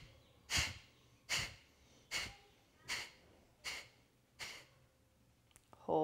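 A yoga instructor exhales in six short, forceful sniffs through the nose, evenly spaced about a second apart and close to the mic, before her voice begins at the end.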